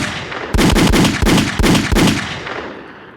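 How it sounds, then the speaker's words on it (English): A burst of gunshots fired in celebration on New York City, four or five sharp, loud cracks in quick succession, each trailing into a rumbling echo that fades away. "Gunshots."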